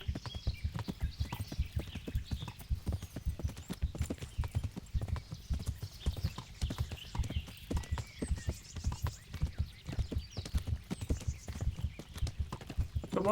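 Video game horse hooves clip-clop in a quick, steady trotting rhythm, close and fairly quiet, with no talking.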